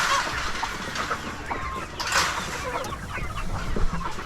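Hens cluck steadily in a backyard coop, including one hen with a broken foot hopping on one leg, with scattered soft calls overlapping at mid distance and no talking.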